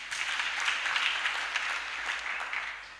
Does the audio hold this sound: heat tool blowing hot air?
no